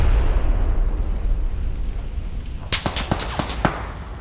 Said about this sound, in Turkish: Bir tane daha bomba attık.